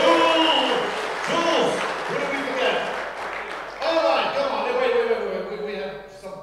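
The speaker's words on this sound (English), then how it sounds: "give him a big applause" Crowd applause for the camera crew at the NSL Sports Nations Cup 2023 finals, a loud burst of clapping and cheering that swells, dips, then rises again while people talk over it.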